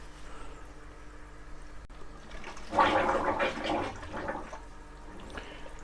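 Water gurgles and rushes down a pipe, filling an Eheim Classic 600 external canister filter. It is a brief, moderately loud burst of flowing water in the middle of a quiet background.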